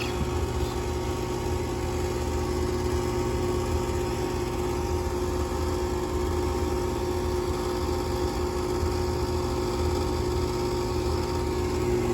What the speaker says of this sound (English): So there's inducer motor firing up.